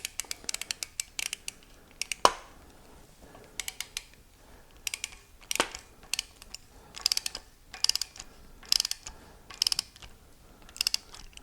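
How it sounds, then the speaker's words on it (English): Ratcheting wrench clicks while tightening a Teflon-taped pipe plug into an Oldsmobile 455 V8 engine block, a series of sharp, quiet metallic ticks in short irregular groups with faint shuffling between. "now it's just a matter of getting it in the hole, getting it started and tightening it down."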